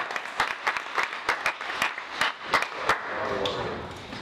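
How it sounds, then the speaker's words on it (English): A small audience gives a round of applause at a live event, with a handful of sharp, separate claps early on that merge into a brief, thin patter. "Give him a round of applause"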